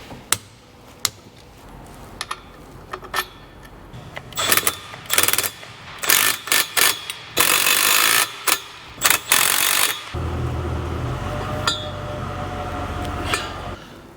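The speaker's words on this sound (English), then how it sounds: "We'll put fresh Loctite on the drive shaft nuts, torque them in." Tools working on the drive shaft nuts of a Mercedes W124 during differential reassembly, with a run of sharp metallic clicks and ratcheting bursts, then a steady mechanical whir near the end; close and fairly loud, with no talking.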